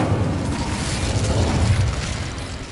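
A fiery Incendio spell blast roars in the Hogwarts Legacy video game, a dense rumbling whoosh of flame that swells through the middle and tapers slightly at the end.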